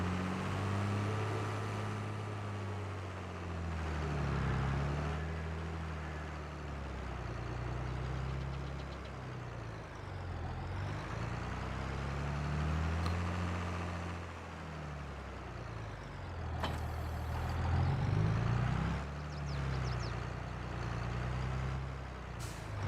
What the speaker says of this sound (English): I love hearing the tractors come under load